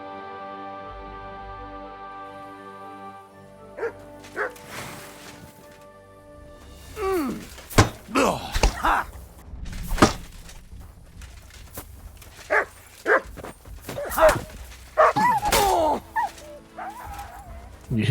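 In Kingdom Come: Deliverance II, a dog is hit and gives several sharp yelps and whimpers amid impact sounds and game noise, following a steady tonal hum at the start.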